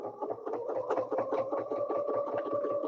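A sewing machine stitches through a quilt, its needle running in a fast, steady rhythmic chatter with a humming motor tone, close and continuous throughout, no talk.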